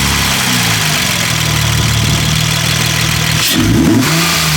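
A 2008 Honda Accord V6 fitted with a Weapon R cold air intake runs loud and close, idling steadily before a sharp rev blips near the end, engine alone with no voices.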